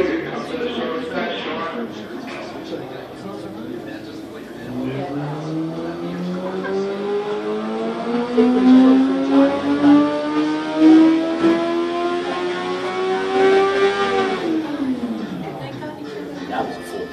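Motorcycle engine on a dyno at a dyno shootout, revving steadily upward through a full pull, its pitch climbing for about ten seconds before dropping off, loud and close with crowd noise around.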